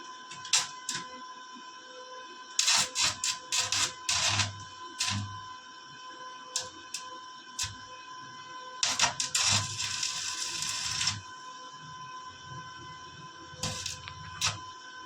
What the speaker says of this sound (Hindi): और इस जगह को भी यहाँ पर पकड़ के कुछ इस तरह से वेल्डिंग मार देते हैं।